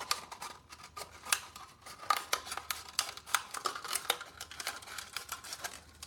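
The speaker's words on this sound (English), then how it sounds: "And I will cut off the rim again." Scissors cutting off the rim of a cup, a rapid series of sharp close snips and clicks in an irregular rhythm, no voices.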